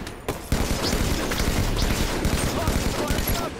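Sustained rapid gunfire in a Halo Slayer match, dense overlapping shots and bursts running almost nonstop at close range, loud and steady throughout.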